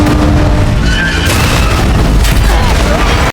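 A space station blowing apart in a science-fiction film, heard as a loud, sustained rumbling boom with crackling debris bursts throughout, dense and continuous, with a fresh surge midway and an abrupt cutoff at the end.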